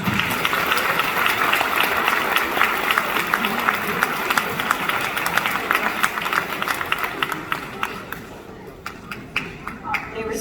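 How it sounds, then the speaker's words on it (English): An elementary school graduation audience gives teachers a long round of applause, a dense crowd of clapping that stays steady before thinning to scattered claps, with some voices mixed in. "Please give them a round of applause."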